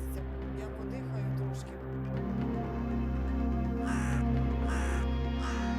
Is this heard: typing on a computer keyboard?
no